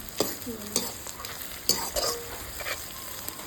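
Chopped chillies fry with onions in a pan for Assamese village-style mutton curry: a soft, steady sizzle broken by several quick stirring scrapes, close and fairly quiet.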